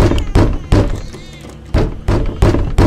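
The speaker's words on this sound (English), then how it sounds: "The banging is killing me." Heavy banging in the horror video game Haunted Bloodlines: loud, hollow thuds in uneven pairs and singles, with a short quieter gap in the middle, close and dominant in the scene.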